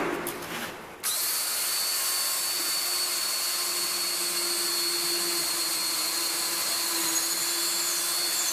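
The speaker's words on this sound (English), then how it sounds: "you too could hear that the drill was a little bit sharp" An electric drill played as an instrument in the performance piece Echolalia, starting with a brief rough burst and then holding a loud, steady, sustained whine with a fixed pitch, close and uninterrupted.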